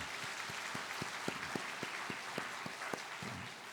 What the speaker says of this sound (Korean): 다시 한번 우리의 죄를 대신하여 십자가에서 죽으시고 부활하신 우리 주님께 큰 영광의 박수 올려드리겠습니다.